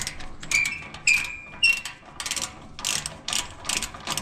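A ratchet wrench clicks in quick bursts while working on a car muffler at home. Several short, close, crisp runs of ratcheting are separated by brief pauses, with no talking.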